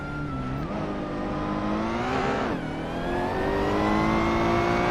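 A race car engine revs hard in a racing video game, a loud, sustained whine climbing steadily in pitch with a brief dip partway through before pushing higher again.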